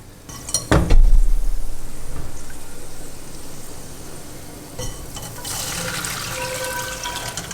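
Rendered pork fat poured from a pot through a strainer, a heavy low splash and clatter near the start, then a steady close trickle of hot liquid with faint metallic clinks of cookware.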